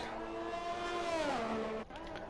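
An Aston Martin Formula 1 car in F1 2021 at the United States Grand Prix screams at high revs, its engine pitch rising and falling through gear changes before a sudden cut, close and loud on its own.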